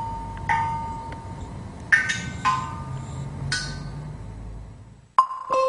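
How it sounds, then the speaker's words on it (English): Scattered water drops plink into a jar buried underground, producing clear ringing tones with lingering reverberation, spaced irregularly with quiet hiss between them. "The reverberation of the dripping water evokes an otherworldly feeling."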